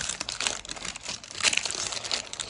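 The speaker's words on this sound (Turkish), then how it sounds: "Şimdi de yağlı kağıttan çıkartıyorum." Dried sour cherry fruit leather being peeled off baking paper, giving a close, continuous crackling and crinkling with small sharp peaks, with no talking.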